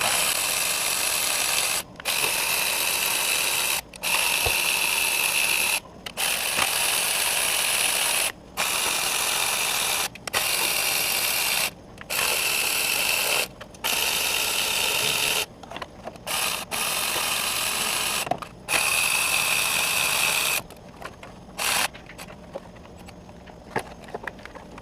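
A ratchet wrench with socket turns bolts on an Audi 3.2L FSI engine: long bursts of rapid close clicking, repeated about ten times with brief pauses between strokes.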